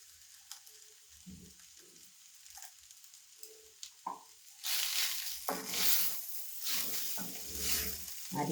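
Green pigeon peas (tuver) cook in a little oil while being stirred: a few quiet clinks and scrapes, then a louder burst of sizzling with repeated stirring strokes, heard up close.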